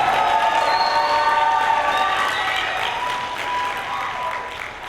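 Loud crowd applause with some cheering and whoops on top at a youth council graduation in Savannah Civic Center, sustained and gradually tapering toward the end.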